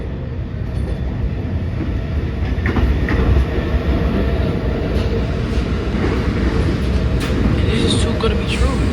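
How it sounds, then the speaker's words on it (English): An R46 G subway train at Smith-9th Streets station rumbles loudly and continuously, wheels clattering on the track with faint squeals overhead, while people talk nearby. "This train might go express."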